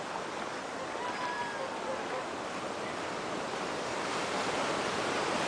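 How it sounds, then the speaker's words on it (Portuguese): Strong ocean surf at a dangerous beach in Ubatuba, heard as a continuous, loud broadband roar of breaking waves that swells slightly toward the end, with some wind buffeting the microphone. "Hoje a ondulação está muito forte."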